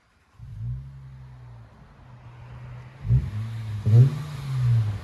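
A 2005 Acura RL SH all-wheel-drive sedan with dual exhaust and a muffler delete starts up and idles with a deep, low rumble. Two sharp throttle blips swell and fall back near the end, close by and with no talking.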